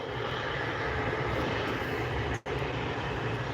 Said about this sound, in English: Next is our last aircraft for today, an Allegiant Airbus A320-200 CEO